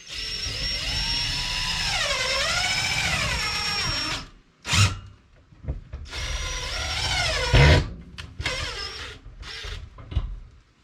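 A battery-powered grinder whines in two sustained runs with rising and falling pitch as the motor spins up and slows, separated by short clicks and handling knocks, close and fairly loud.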